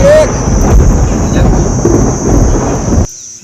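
Thunder during heavy monsoon rain, a loud, close, rolling rumble over dense rain hiss and wind buffeting, cutting off abruptly near the end.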